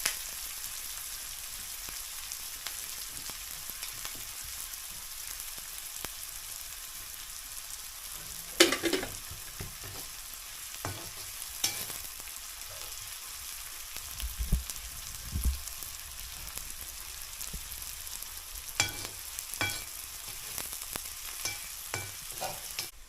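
Onion sautéing in a pan over a wood-fired chulha stove in a Konkan kitchen, giving a steady, quiet sizzle and crackle with occasional stirring scrapes and clinks, without talk.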